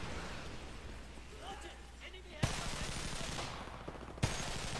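Long-range gunfire in the shooter game Homefront on the Borderlands map: muffled bursts of shots with two sharper reports standing out, heard with someone talking over it.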